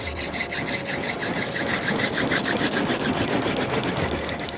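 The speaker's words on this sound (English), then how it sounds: "a great deal of energy is used to rotate the spindle fast enough to create a lot of friction" Grass tree stalk spindle spun against a piece of wood for friction fire, giving a steady, close scraping rub with a fast repeating rhythm throughout, loud and unbroken.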